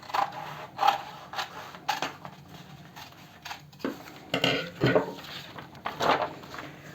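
Fabric being cut with scissors to shape a raglan sleeve for an eyelet-lace blouse, a series of short snipping and rustling bursts at close range, irregular in rhythm, with no talking.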